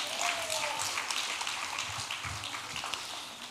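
Audience applause at a West African women's political leadership forum, a steady dense patter of many hands clapping that holds at an even level throughout with a faint voice beneath.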